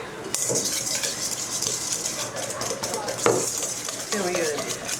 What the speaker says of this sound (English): A good whisk.